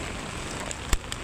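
Steady rain falling on city streets in Bonifacio Global City, Philippines, heard while walking: a constant close hiss of drops on pavement with one brief louder patter or splash near the end, no talking.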